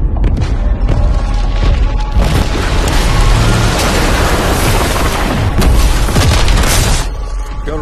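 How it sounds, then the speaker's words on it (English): Multiple explosions in Verdansk in a Call of Duty Warzone cinematic, a loud continuous roar of booming blasts and rumbling debris that swells and sustains for several seconds before easing. "Got reports of multiple explosions in Verdansk."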